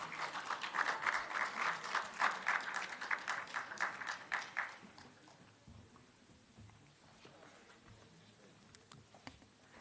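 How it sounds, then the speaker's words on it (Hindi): Audience applause welcoming the session's speakers at a literature festival hall, steady dense clapping for about five seconds before it thins out into quiet room noise. "एक बार जोरदार तालियों से इस सत्र के वक्ताओं का स्वागत कीजिए।"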